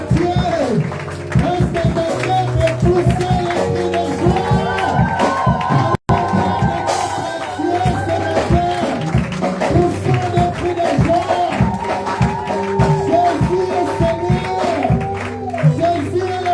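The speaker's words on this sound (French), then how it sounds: "on acclame pour Jésus" A church congregation cheers and acclaims Jesus at a worship service, a steady loud crowd roar with shouts and some clapping over music. It breaks off briefly midway, then resumes.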